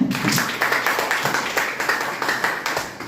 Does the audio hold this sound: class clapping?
yes